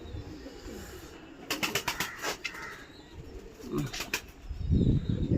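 Pigeons flap their wings in bursts and give low, throaty coos close by outdoors, with wingbeats in flurries and a cooing call near the end.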